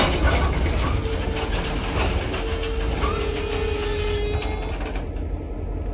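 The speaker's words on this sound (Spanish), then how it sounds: "comenzar el rodaje de trenes en las nuevas líneas férreas del Tren Maya" A Tren Maya train runs along new rails in Yucatán, giving a continuous rumbling roll with faint wheel clatter and a thin high squeal, fairly loud and steady before easing off.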